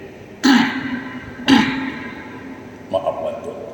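Two sharp coughs from a male preacher during an evening sermon in a Hougang mosque, spaced about a second apart and picked up by his microphone, followed by a brief burst of speech.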